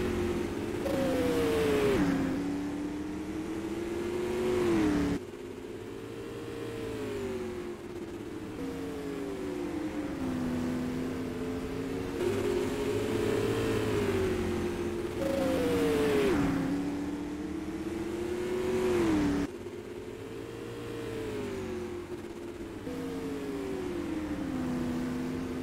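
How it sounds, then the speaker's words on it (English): Sprint race cars roar around the 5 Flags Speedway oval at night, their engines rising and falling in repeated waves as the pack passes again and again, loud and steady with no talk. "They're coming up on the lap car, Carl Becker."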